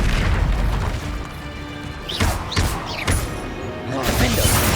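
The Incendio fire spell fired during Hogwarts Legacy gameplay: several punchy magical bursts and whooshing blasts in quick succession over a busy game soundscape.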